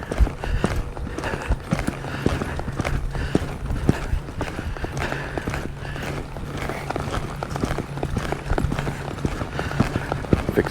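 Hooves of a reining horse loping circles on a loose rein give a steady, rhythmic muffled thudding on soft arena ground, continuous and moderately close for about ten seconds.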